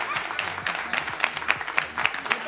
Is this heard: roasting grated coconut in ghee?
no